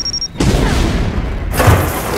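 A deep, loud cannon boom erupts abruptly after a brief tone, rumbling and echoing, followed by a second heavy blast about a second later, from a cannon fired in the Addams Family movie trailer.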